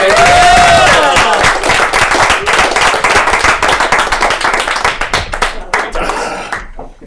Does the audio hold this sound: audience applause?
yes